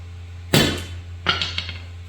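Two sharp metallic hammer blows on a Triumph Spitfire 1500 leaf spring, the second followed by a few lighter ringing taps, over a low steady hum.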